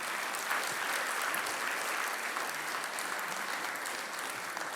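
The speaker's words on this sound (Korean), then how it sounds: "예, 한번 뜨거운 박수로." Steady, sustained applause from the congregation fills a Korean church Sunday service, a dense wash of clapping at even loudness with no speech over it.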